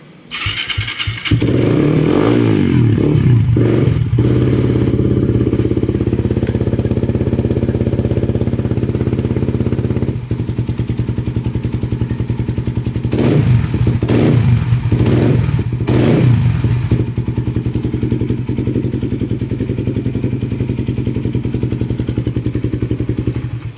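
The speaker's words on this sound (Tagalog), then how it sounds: "Okay, so yung tunog ng Venworks at Tambucho." A motorcycle engine idles loudly and steadily with a deep, rumbling exhaust, revving up in a few short blips partway through.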